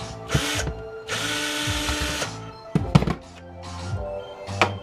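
A power drill or driver removes screws from a metal security card reader, whirring in several short bursts with pauses, clicks and metallic clunks between runs, close and fairly loud.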